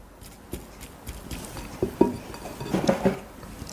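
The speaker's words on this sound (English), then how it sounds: "Break up that tuna." A utensil breaks up canned tuna in oil inside a bowl of chickpeas, making scattered close taps, scrapes and light clinks against the bowl that grow busier toward the end.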